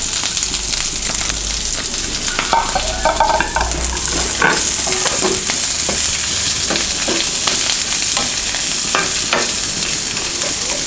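Onions and curry leaves fry with tempering spices in a pan for a cabbage curry, giving a steady close sizzle broken by repeated stirring scrapes and knocks of a spoon against the pan.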